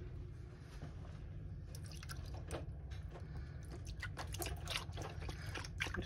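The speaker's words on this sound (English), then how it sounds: "I'm going to be putting in some beef stock" Unsalted beef stock poured over a pot roast, a soft close trickle and splashing of liquid that grows busier toward the end, faint and with no talking.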